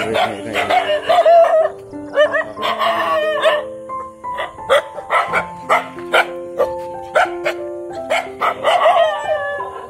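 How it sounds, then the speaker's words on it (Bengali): Several dogs bark, yelp and howl in an Indian village, with loud, overlapping calls in irregular bursts throughout and no talk. "সকালে কুকুর আক্রমণ।"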